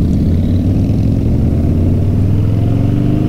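Harley-Davidson Softail Slim motorcycle riding on an open road, a loud continuous engine drone with steady low harmonics that climb gently as it pulls along, close and alone without talk.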